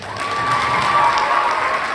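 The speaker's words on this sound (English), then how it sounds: "You can applaud." An audience at a Dixon High School winter solstice concert applauds a senior oboe player's recognition, a dense burst of clapping with some cheers that holds steady throughout.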